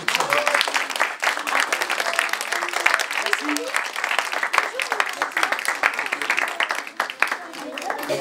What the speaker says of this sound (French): vous pouvez vous applaudir encore